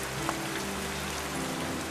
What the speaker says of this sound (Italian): andiamo che piove